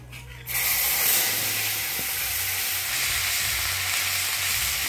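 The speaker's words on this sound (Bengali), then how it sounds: "ফোড়নে দিব শুকনো লঙ্কা, জিরা, তেজপাতা। শুকনো লঙ্কা, গোটা জিরা, তেজপাতা দিয়ে দিব।" Dry red chillies, whole cumin and bay leaf hit hot oil with a sudden loud burst of sizzling that settles into a steady, close, spitting hiss.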